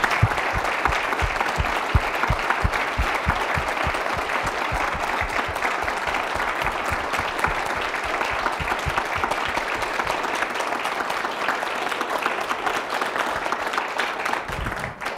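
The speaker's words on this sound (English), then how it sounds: "Will you join me in thanking them with your applause?" Sustained audience applause for an expert panel at a healthcare summit, a dense, steady wash of many hands clapping that holds for about fifteen seconds before thinning slightly at the end.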